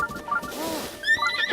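A horse in the Zelda: Breath of the Wild video game gives a single short, clear neigh that wavers up and down, followed by faint game sounds.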